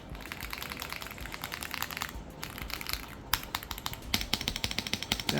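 Fast clacking keystrokes on an AULA F99 mechanical keyboard, close and fairly quiet, with irregular bursts of clicks and a few louder strikes near the end.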